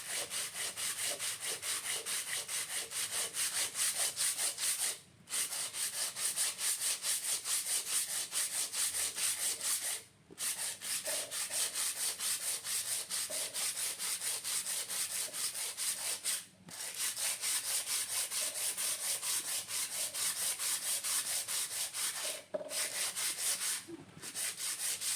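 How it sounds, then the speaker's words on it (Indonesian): Steady rhythmic abrasive rubbing as a motorbike carburetor Vario engine part is sanded by hand on flat ceramic tile, close and continuous with brief pauses between strokes, no talking. "Nah jadi ini kan udah kita posisikan di atas keramik yang rata, jadi kita amplas perlahan, kita gosok aja"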